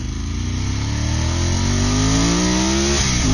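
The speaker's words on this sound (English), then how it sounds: "it's more the mechanical sound that comes from the engine that is quite impressive" A powerful Ducati 749 or 748 superbike engine revs up close, its deep mechanical rumble rising steadily in pitch as it accelerates, loud and continuous with no voices.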